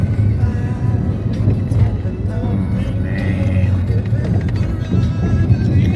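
Busy Jakarta street traffic with a steady broadband rumble of passing cars and motorbikes, loud and continuous with no single vehicle standing out.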